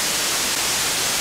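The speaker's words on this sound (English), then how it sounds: "The second oscillator also has a setting for white noise." White noise from the second oscillator of a Therevox ET-4.1 electronic instrument, a steady, loud, even hiss with no pauses.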